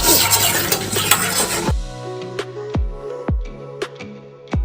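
Blended tomato puree in mustard oil is stirred in a pan for Maggi noodles. A loud frying sizzle at first gives way to a quieter scrape with sharp, repeated clinks of the spoon against the pan.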